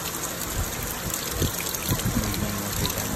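Steady rushing of water at a natural waterfall on Ticao Island, Masbate: a loud, continuous broadband splash and gush close by, with no talk over it.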